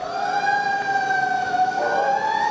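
A fire engine siren wails loudly and close, a steady rising-and-falling electronic tone that sustains throughout without pause.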